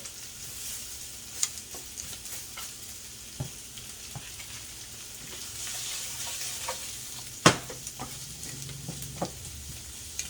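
Orange roughy and asparagus stir-frying in a hot pan, a steady quiet sizzle with occasional sharp clicks and scrapes of stirring, one louder clack partway through.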